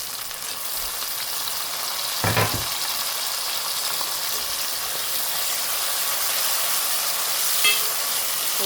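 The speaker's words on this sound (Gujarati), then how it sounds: "હવે નાખવાનું ટમેટા." Tomatoes tumble into a hot pan of mackerel keema with green masala, giving a dull thump near 2.3 seconds; steady broadband sizzling and frying hiss runs throughout, with a faint scrape later.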